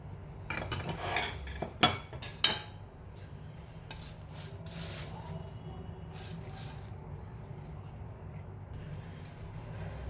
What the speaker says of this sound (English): so I put all my brown onions in this now